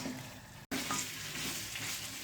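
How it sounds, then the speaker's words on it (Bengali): Beaten yogurt fries and is stirred into a mutton curry with tomato in a pan, giving a steady soft sizzle with scraping stirs, briefly cut by a short gap before the frying hiss resumes. "এবার আমি দিয়ে দেবো এর মধ্যে 2 চামচ ফেটানো দই, দিয়ে আরও 3-4 মিনিটের মতন ভালো করে কষে নেব"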